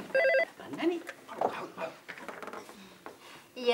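A telephone rings for a bonus call on a Sri Lankan TV game show, with short bursts of ringing tones that alternate with excited talk and studio noise.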